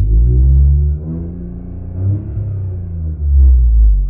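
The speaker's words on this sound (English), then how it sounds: "I'm gonna rev it up to 38" A Ford Fusion Sport engine revs up and settles in two strong surges, loud and close, with a deep rumbling low end and no talk over it.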